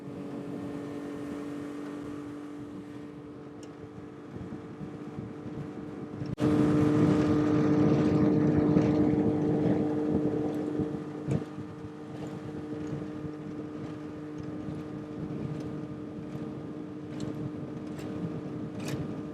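A 30 HP Tohatsu four-stroke outboard motorboat engine roars up sharply to full throttle and holds a loud, steady drone at high revs, with wind buffeting the microphone.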